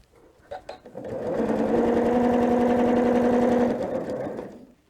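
A sewing machine stitching purple thread down the side of a tape strip on a quilt-as-you-go border, a few short taps, then a steady, loud whirring run for about two and a half seconds before stopping.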